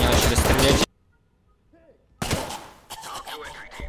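Gunfire in a video game comes as a loud burst of dense shots, a brief near-silence, then another heavy volley followed by further crackling fire.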